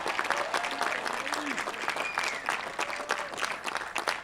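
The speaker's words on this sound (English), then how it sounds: "So let's give Marist's first doctoral class a round of applause." A crowd at a college commencement ceremony applauds steadily, a dense wash of clapping with scattered cheers and whoops throughout.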